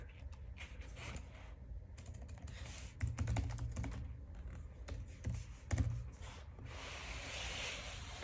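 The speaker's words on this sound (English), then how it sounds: "Let's quickly type in home view 6 here." Quick bursts of keystrokes on a computer keyboard, close and fairly quiet, with a few heavier clusters of key presses and brief pauses between runs of typing; no voices.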